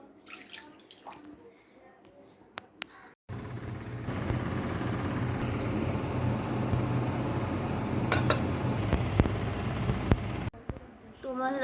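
Rice is rinsed by hand in water, a steady splashing and swishing wash that sets in abruptly and runs for several seconds at close range, with soft talk heard before and after.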